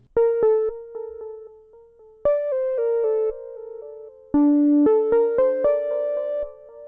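A bright synth lead plays a simple melody of clean, sustained notes in short phrases, alone with no other instruments.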